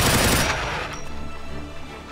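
Gunfire from a German gun in the video game Doom with the Project Brutality mod: a loud, dense burst of rapid shots at the start, followed by a fading, rumbling tail.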